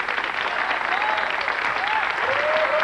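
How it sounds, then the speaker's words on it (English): A studio audience on a 1993 quiz show applauds in a steady, dense burst of clapping. It plays at a moderate level and fills the whole moment. "And ladies and gentlemen, a round of applause for Gail, our runner-up."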